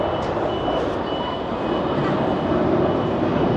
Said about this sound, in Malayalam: ഒരു ഫ്ലൈറ്റ് അല്ലേ കേളപ്പേട്ട ആ പോയത്?